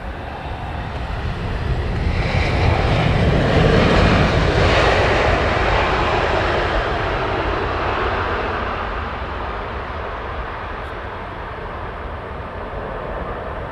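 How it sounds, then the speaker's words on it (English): A British Airways Airbus A350 passes close on its landing approach to Heathrow's runway 27R, its engines a loud, broad roar that swells and then slowly fades, with no voices present. "It's a BA A350. Can't miss the 350."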